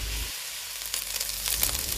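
Chicken frying in a pan for a risotto, a steady close sizzle and crackle with brief stirring sounds, louder toward the end.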